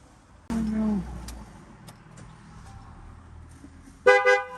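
An upgraded aftermarket horn on a Maruti Suzuki Baleno sounds in two loud bursts, a longer tonal blast near the start and a shorter one near the end, separated by quiet outdoor background.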